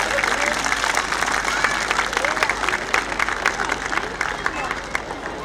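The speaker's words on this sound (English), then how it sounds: "applause to those melodious movers" A school annual-day audience applauds the dancers with loud, sustained clapping that holds steady throughout, with crowd murmur mixed in.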